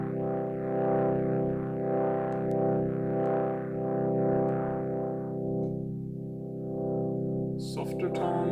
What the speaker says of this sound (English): crank up the drive. You can hear it overdrive nicely.